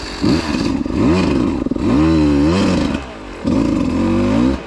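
A motorcycle engine revs loudly and close in repeated bursts as the rider tries to creep it forward, each rev rising and falling with brief dips between, raw and clattery.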